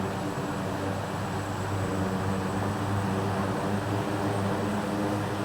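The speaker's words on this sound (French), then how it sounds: "inverser le pas de l'hélice." Steady, loud turboprop engine drone as the propeller goes into reverse pitch, with a constant harmonic hum and a thin high whine, unbroken throughout, no voices.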